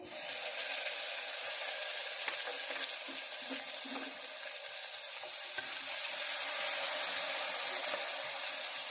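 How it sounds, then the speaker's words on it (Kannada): Turmeric and green chili paste fries in a little oil for a North Karnataka-style rosy dock sambar, a steady bright sizzle with light crackles throughout at moderate loudness. "ಸ್ವಲ್ಪ ಎಣ್ಣೆಯಲ್ಲಿ ಫ್ರೈ ಆಗಲಿ ಅದು."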